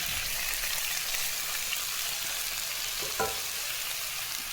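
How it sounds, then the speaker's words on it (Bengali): Raw pumpkin and mixed vegetables sauté in a pan for a vegetarian dish, giving a steady low sizzle throughout with a single faint scrape of stirring partway through. "এইভাবে সবগুলো একটু কষিয়ে নিয়েই"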